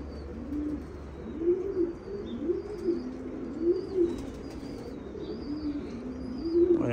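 Pigeons in a loft coo steadily in repeated low rolling phrases, close and clear, with faint chirps above and a constant background hum.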